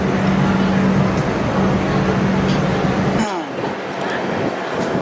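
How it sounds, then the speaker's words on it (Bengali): The Mahananda Express pulls slowly out of Siliguri Junction with a steady rumble and a sustained tonal hum that cuts off partway, followed by metallic clinks and clanks of the carriages, while a voice talks over it. "আমরা এই মুহূর্তে ট্রেন ধীরে ধীরে স্টেশন থেকে ছেড়ে"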